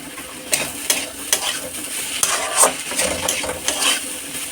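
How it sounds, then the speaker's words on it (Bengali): Spices stirred in a pan with a splash of water sizzle close up, broken by repeated scraping spoon strokes in an uneven rhythm, with no one talking. "মশলাগুলো দিয়েছি বলে এর মধ্যে একটুখানি জল দিয়ে নাড়াচাড়া করলাম"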